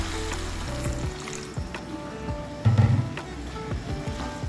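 Water hits a hot curry pan of mashed potatoes and peas, bringing a burst of sizzling and crackling over a low frying hiss, with a louder surge partway through.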